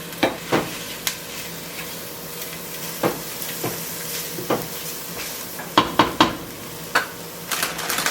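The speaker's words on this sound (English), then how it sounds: "I'm going to saute it with my garlic and my shallot to really brighten it up and open it." Garlic, shallot and red pepper flakes sautéing in a pan, a steady sizzle broken by sharp scrapes and clicks as a utensil stirs against the pan at irregular intervals.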